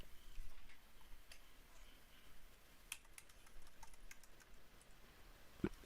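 A computer mouse clicks quietly, a few scattered sharp ticks over a faint background hiss in a quiet room.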